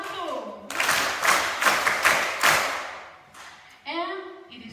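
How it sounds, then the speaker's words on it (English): An audience at a panel event on women and girls gives a round of applause, a burst of clapping swelling and fading over a few seconds, with a person's voice speaking before and after. "Let's give her a big round of applause."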